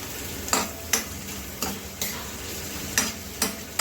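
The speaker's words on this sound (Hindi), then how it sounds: "अब हम इसमें लहसुन डाल देंगे।" Garlic frying with browned onions in a pan while cooking karela, a steady sizzle punctuated by about seven sharp scraping stirs in an uneven rhythm.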